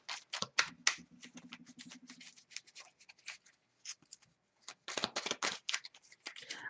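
Tarot cards shuffled by hand in a quiet room, giving a string of soft, quick riffling snaps and flicks that pause briefly, then resume in a denser burst.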